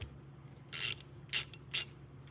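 A ratchet wrench is worked in three short, crisp bursts of rapid clicking, close and clear against a quiet, faintly humming room.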